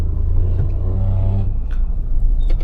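A Mahindra XUV700 SUV drives along with a steady low engine rumble heard from inside the cabin, and no voices are present.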